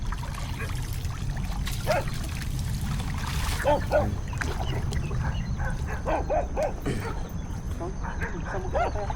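Several dogs bark in short bursts at a distance, mixed with people talking and a constant low rumbling background.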